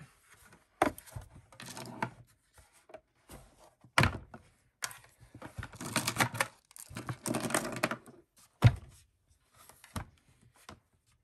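Cranking a Big Shot die-cut machine to press a card through an embossing folder gives a run of mechanical clunks and grinding rolls. Sharp thunks land at the start and near the end, with a longer rumbling pass between them. No one speaks.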